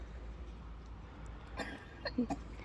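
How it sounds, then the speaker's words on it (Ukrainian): A few short coughs from a child near the end, faint against quiet room noise, coming in a small cluster. "ще досі кашляє"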